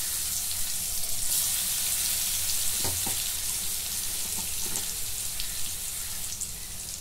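Curry leaves, garlic and chili paste with turmeric sautéing in hot oil for a buttermilk kadhi, a steady close sizzle and crackle with a few faint stirring clinks, no talking.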